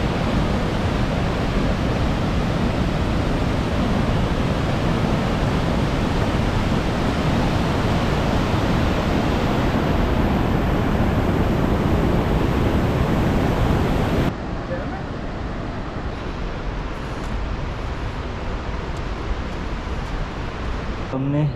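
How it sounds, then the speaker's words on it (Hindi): A mountain stream rushes near Minapin village on the Rakaposhi base camp hike in northern Pakistan, a loud, steady wash of flowing water that continues unbroken and drops slightly in level partway through. "ये चश्मा बह रहा है"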